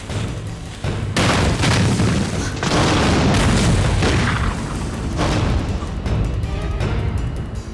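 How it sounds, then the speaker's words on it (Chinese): A heavy explosion at a grain depot erupts into a long, roaring rumble with crackling debris, loud and close, swelling and fading for several seconds. "怎么会有爆炸声？"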